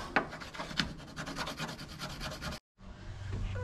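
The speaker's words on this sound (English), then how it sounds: "Pretty good job of scraping it off" A cast iron pot scraper rasps against a boat winch, giving repeated close gritty scraping strokes that stop for a brief silence, then resume.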